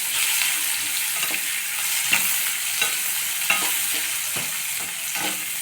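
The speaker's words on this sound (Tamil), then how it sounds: "ஒரு வெங்காயம் கட் பண்ணி வச்சுருக்கேன் அதை சேர்த்துடலாம் சேர்த்துட்டு நல்லா வதக்கி கொடுக்கலாம்" Chopped onion sautéing in a pan for a spicy tamarind curry, a dense continuous sizzle close by, broken by periodic scraping strokes of a spatula in an irregular rhythm, with no talking.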